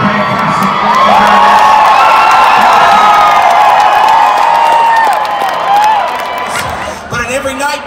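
A large crowd at a concert in Boise roars with cheers, whoops and shouting in a loud, sustained wall of sound that eases off toward the end, heard from close in the front rows.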